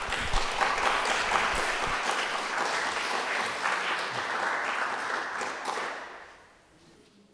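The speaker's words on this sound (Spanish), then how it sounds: "Lo recibimos con un aplauso." An audience at a university lecture on the history of San Marcos applauds to welcome the speaker, a steady dense round of clapping that holds for about six seconds and then fades away.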